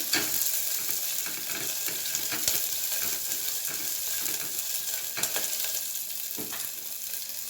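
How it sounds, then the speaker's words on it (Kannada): Onions frying in a pan for a spinach vegetable rice dish: a continuous close sizzle punctuated by repeated scraping and clattering strokes from a spoon stirring against the pan, with no voices. "ಸೊ ಈರುಳ್ಳಿ ಹಾಕ್ಕೊಂಡಿದ್ದ ತಕ್ಷಣ ಒಂದು ನಿಮಿಷ ಬಿಟ್ಟು ಸ್ವಲ್ಪ ಗೋಲ್ಡನ್ ಬ್ರೌನ್ ಬರಬೇಕು"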